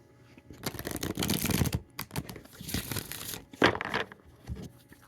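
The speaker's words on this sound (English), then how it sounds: "I hope you like the sound of shuffling cards." Tarot cards are shuffled by hand in several rough, papery bursts of riffling and sliding, close and fairly loud with short pauses between.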